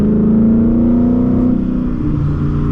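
Exhaust of a 2022 Ford Mustang GT with the 5.0 V8: a loud, close, steady droning engine note that holds, then shifts slightly in pitch as the revs change, with no talking.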